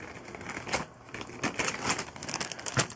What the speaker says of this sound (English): quick throw those back in the bag so I don't got stuff everywhere on this table